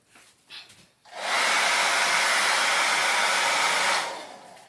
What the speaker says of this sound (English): you're not going to be able to hear me when I start this blow dryer